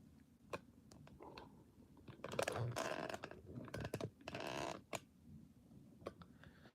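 Typing a verification code on a computer keyboard: scattered soft key clicks, then a denser cluster of tapping and rustling in the middle before a few final isolated clicks, close and quiet.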